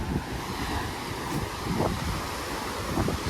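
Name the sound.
sea waves at the beach in Kanyakumari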